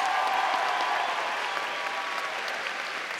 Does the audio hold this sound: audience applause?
yes